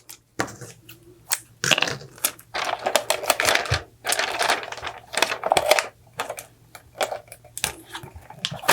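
Adhesive tape is pulled off a roll and pressed along a sublimation mug from top to bottom, giving a run of close, crackling and ripping bursts with short pauses between them, under a low steady hum.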